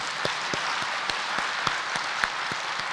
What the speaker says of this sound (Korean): 영광의 박수 하겠습니다